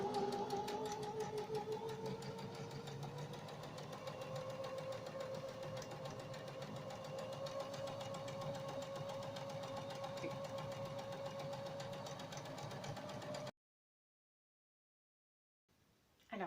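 A sewing machine runs steadily for about thirteen seconds, stitching a zigzag around the edges of fabric squares for a homemade barrier face mask. The hum is close and continuous, then stops abruptly and leaves silence.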